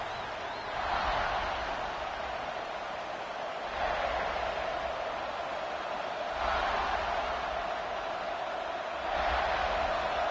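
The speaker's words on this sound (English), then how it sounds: "this crowd is fired up. Listen to this noise here" A college football stadium crowd cheers and roars at a playoff game, a broad distant wash of noise swelling in repeated waves and staying loud throughout.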